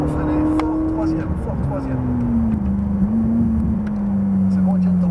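A Ferrari 458 on a race track pulls hard, its steady engine tone sliding lower and then rising again as it accelerates, loud and close throughout with continuous wind and road roar.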